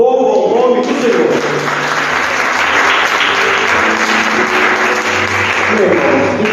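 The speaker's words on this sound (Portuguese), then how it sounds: "em nome do Senhor Jesus, e as palmas louvam o nome do Senhor." A church congregation claps in praise at a morning service, steady loud applause that fills the room without a break, with faint voices mixed in.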